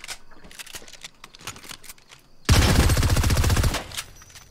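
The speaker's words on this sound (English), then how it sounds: "rapid fire SMG" A rapid-fire SMG fires in Fortnite, a loud burst of quick, evenly spaced shots lasting over a second, following softer clicks and shuffling game sounds.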